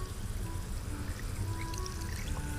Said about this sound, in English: Let's pour in some hydrochloric acid.